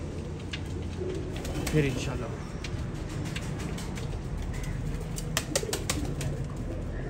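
Pigeons kept by a fancier coo softly and steadily through a noisy background, with someone speaking briefly over them.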